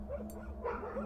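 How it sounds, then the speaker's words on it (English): A dog barks in the kennels of the game Solstice, a few soft yips and woofs heard faintly in the background over a low steady hum. "Background dog."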